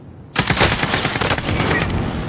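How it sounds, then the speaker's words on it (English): Rapid automatic AK rifle fire in the shooter game Modern Warfare erupts suddenly after a brief lull and continues as a loud, sustained burst of closely spaced shots. "That AK is not even fair."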